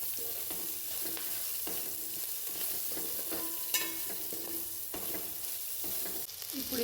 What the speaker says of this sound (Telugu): ఇప్పుడు ఇది మంచిగా ఫ్రై చేసుకోవాలి.